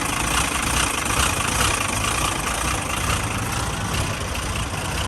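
A Ford Falcon engine idling with a rough, tractor-like chug, a loud continuous low rumble heard up close, steady and unbroken with no talk over it.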